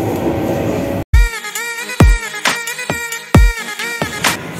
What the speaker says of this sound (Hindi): तो गाइज हम मेट्रो में आ चुके हैं,